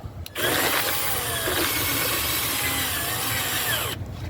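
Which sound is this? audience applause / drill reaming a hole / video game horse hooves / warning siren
drill reaming a hole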